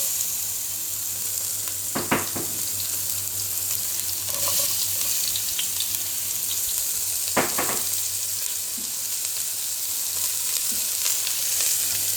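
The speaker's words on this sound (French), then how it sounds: "Dans la même cocotte, je vais faire revenir mes oignons et mes lardons" Onions and bacon lardons fry in a casserole pot, a steady close sizzle throughout, broken twice by brief scraping stirs.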